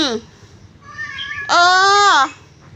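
A cat meows close by and loud: a short cry at the start, a thinner call, then a long, strained, drawn-out meow that fades into quiet.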